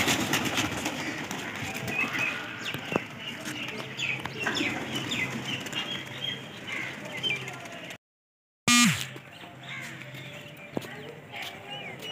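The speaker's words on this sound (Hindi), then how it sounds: "ये सारे कबूतर उड़ने लगे हैं" Pigeons flutter and coo around a rooftop loft as a flock takes off, bird calls and wingbeats busy throughout, with a brief dropout near the end before the outdoor sound resumes.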